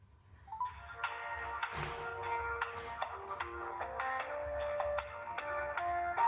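A phone rings out while a call is placed, playing a melodic ringtone of repeated tonal phrases that runs steadily and fairly close throughout, with no talking.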